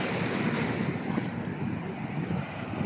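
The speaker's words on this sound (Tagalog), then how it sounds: "Lakas ang alon, no?" Strong waves crash and wash up on the beach at Tanza, Cavite, making a loud, continuous roar mixed with heavy wind buffeting the microphone.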